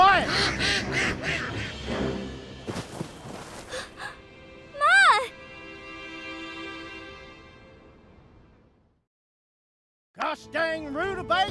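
A duck quacks in the farming game My Time at Sandrock, calling out in a few sharp, rising honks over busy game music and vocal sounds before the scene briefly falls quiet.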